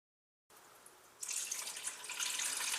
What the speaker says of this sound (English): Rinse your rice.